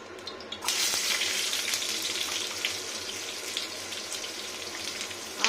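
Onion dropped into hot mustard oil in a frying pan, a sudden burst of hissing sizzle that settles into a steady, fairly soft crackle.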